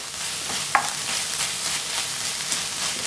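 Onions are being browned and caramelized in a pan for homemade burgers, producing a steady, dense frying hiss. One brief scrape of a spatula cuts through it early on.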